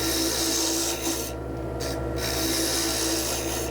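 Steady, continuous scraping rasp of a lathe tool cutting a spinning wood blank, close and loud, with a constant low motor hum underneath.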